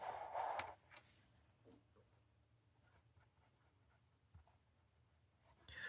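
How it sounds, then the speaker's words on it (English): A Junlai 630 fountain pen with a fine nib writes on paper, making quiet scratchy strokes in short bursts. Very close and faint in a quiet room, with a louder rustle at the start. "The fine nib writes the quickest across the page"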